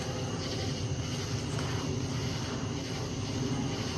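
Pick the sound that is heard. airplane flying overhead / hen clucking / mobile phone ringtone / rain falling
airplane flying overhead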